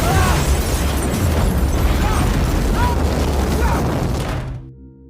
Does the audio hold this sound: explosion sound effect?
yes